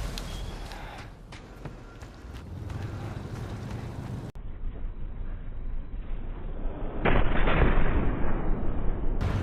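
Tank cannon and turret fire in a video game, heavy booming shots and rumbling mixed with gritty noise, swelling louder and more intense in the final seconds.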